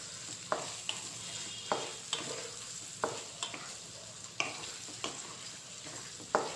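Soya chunks and chopped onions fry in oil in a pan, a steady quiet sizzle broken by regular sharp scrapes and taps of a stirring spoon, close by and with no voices.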